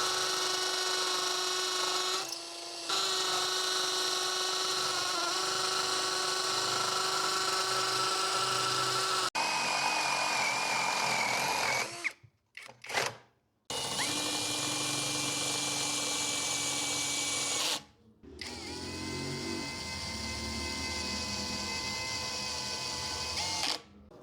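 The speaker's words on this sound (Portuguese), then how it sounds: "E eu vou mostrar agora para vocês um teste na prática dela furando um bloco de cimento" A Hanabi brushless impact drill bores into a cement masonry block, its high whining motor buzz running loud and steady in long bursts broken by brief stops and restarts, with the tone shifting as the bit bites.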